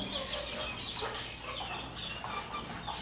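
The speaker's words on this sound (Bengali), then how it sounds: "এগুলো আপনার হেজা মুরগি বলে চট্টগ্রামের বাসায়" Hezza chickens kept in a flat-house farm in a Chittagong home cluck and chatter in a dense, steady flock noise, with no voices.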